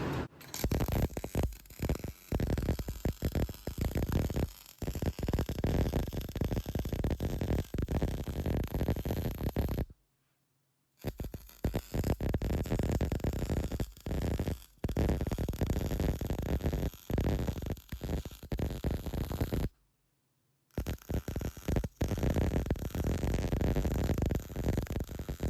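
MIG welding rungs onto a steel tire chain hanger, with anti-spatter used on the nozzle: a loud, steady crackling buzz in long continuous runs, broken by two short silent pauses between welds.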